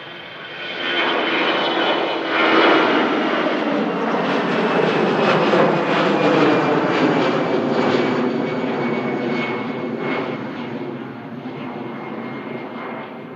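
A jet airliner departing from runway 23 right at Manchester Airport, heard as a loud, sustained engine roar that swells in and holds steady across the whole stretch, with no talk over it.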